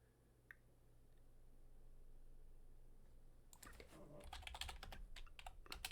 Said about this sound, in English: And then he's typing.